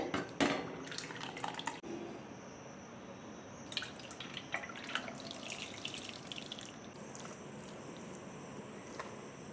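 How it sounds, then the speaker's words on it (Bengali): Boiled sago is poured into another pot with faint wet drips and splashes and a soft trickle, followed by a low, watery background with light clinks, all fairly quiet. "সাবুটা সিদ্ধ হয়ে গেছে এবার আমি ঢেলে দেবো একটা অন্য পাত্রে"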